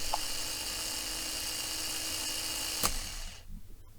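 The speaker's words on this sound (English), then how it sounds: "Here are three machine sounds, the first one corresponding to a compliant machine." A rotating machine in compliant, normal condition hums and whirs steadily with a constant mechanical drone, one sharp click near the end before the sound drops away.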